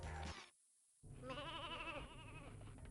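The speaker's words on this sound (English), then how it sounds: "we have found the reason why we've been seeing so many sheep" A sheep in the Ratchet & Clank: Going Commando video game lets out a wavering, quavering bleat over steady game background noise, with no talking.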